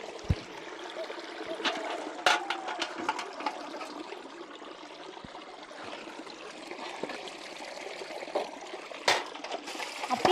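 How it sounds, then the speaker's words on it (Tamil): Canal water released into a groundnut field for irrigation flows and trickles steadily outdoors, a continuous splashing stream with a few sharper sloshes, moderately loud and close, with no talk over it. "கடலக்காய்க்கு வந்து வாய்க்கா தண்ணி விட்டுருக்குறாங்கங்க"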